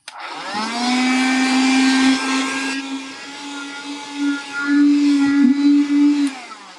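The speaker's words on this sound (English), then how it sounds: "I'm going to vacuum up the mess that's left." A vacuum cleaner sucks up leftover mess from clearing out old paper ephemera, a loud steady motor whine held for several seconds with small shifts in pitch as it moves, close and alone.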